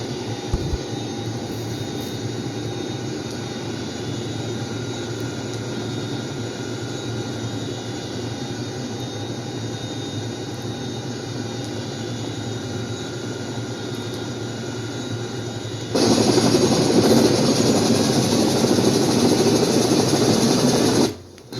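A simulated HH-46 Sea Knight tandem-rotor helicopter flying in Flight Simulator X gives a steady, loud engine and rotor drone, which steps up abruptly into a brighter, harsher roar near the end before cutting off. No one speaks.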